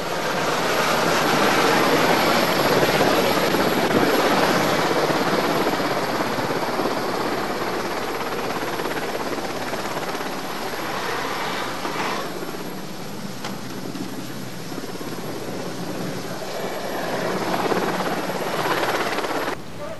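A mountain rescue helicopter in the Scottish Highlands flies off after an avalanche rescue, its loud rotor and turbine roar holding steady, then gradually easing as it moves away, with no voices.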